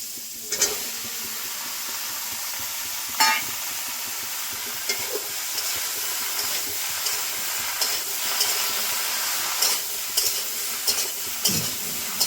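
Bottle gourd frying with turmeric in a pan, a continuous loud sizzle and hiss with periodic scraping stirs of a spatula, close up and without voices.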